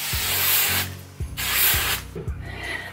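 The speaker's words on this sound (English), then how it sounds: "Gonna do some hairspray." Hairspray hisses out of an aerosol can in two long close bursts, with shorter spurts and small clicks of the nozzle in between, and no talking over it.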